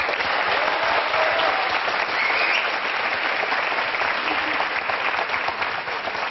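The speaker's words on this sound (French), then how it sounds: "On peut l'applaudir" Dense studio audience applause for a dish just tasted on a French television show, a steady wash of many hands clapping at an even loudness from start to finish, with no voices standing out.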